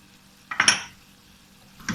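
A spoon scrapes and clinks briefly in a pan of aloo matar (potatoes and peas) dusted with chaat masala, one short burst of metallic stirring, then a faint second scrape at the end.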